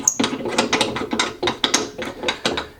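A hand ratchet clicks in quick repeated bursts while a lug nut is tightened onto a Teraflex hinged tire carrier, the sharp pawl clicks close and clear with short gaps between strokes.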